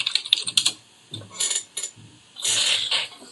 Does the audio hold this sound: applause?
no